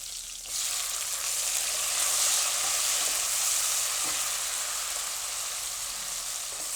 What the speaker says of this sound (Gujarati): ટમેટાને થોડીક વાર તેલમાં ફેરવી લેવું એટલે એ ફટાફટ પાકી જાય.